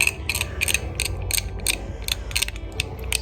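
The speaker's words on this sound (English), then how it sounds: "using the palette knife to chip away a little bit of paint that was left on the canister" A palette knife scrapes and chips leftover paint off a metal spray-paint can. Close, quick, rhythmic scratchy clicks repeat about twice a second, with no talk.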